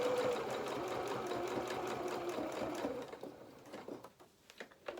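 A sewing machine runs steadily, stitching fabric for a stuffed lamb doll's head, with a continuous motor whir and needle rhythm that slows and stutters into a few short bursts near the end.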